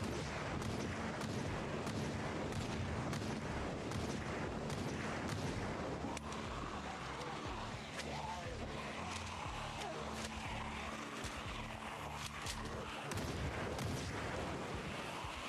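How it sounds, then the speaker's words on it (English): A gun firing rapidly in Project Zomboid, a long run of quick sharp shots in steady bursts with a low droning hum beneath, loud and continuous with no talk over it. "I wanted to see how fast this thing can shoot. It can shoot pretty quick."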